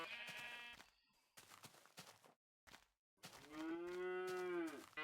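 Minecraft cow sounds from an early Alpha build, with several drawn-out, bleating moos spaced by short silences and a longer, louder moo at the end, heard alone and up close.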